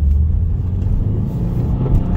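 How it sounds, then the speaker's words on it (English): A 2022 Subaru WRX engine pulls hard in first gear, a deep, loud, steady rumble and rising rev heard from inside the car, with no talking. "Let's feel this engine power a little bit more."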